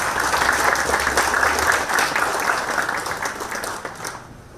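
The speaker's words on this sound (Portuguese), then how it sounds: "Palmas." Applause from a business conference audience, dense and lively at the start, gradually tapering off and fading out before the end.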